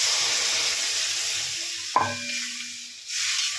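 Water poured into a pan of hot, frying spice masala: steady sizzling, then a sharp splash and hiss as the water hits, briefly quieter before the frying sizzle rises again. No speech.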